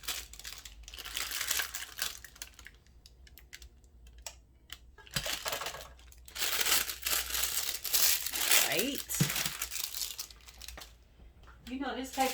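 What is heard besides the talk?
shrink wrap paper crinkling while wrapping soap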